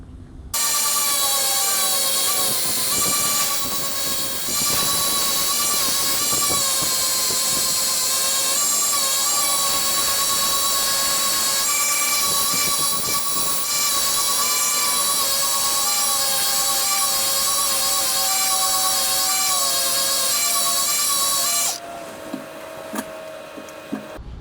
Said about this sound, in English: let's grind into this and see how the layers look.